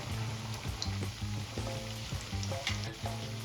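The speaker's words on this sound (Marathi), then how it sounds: "आलटून पलटून वड्या तळून घ्यायच्या आहे" Palak vadi, spinach gram-flour fritters, deep-frying in hot oil bubble and sizzle steadily up close, with a brief rhythmic pattern of low bubbling pulses and no voices.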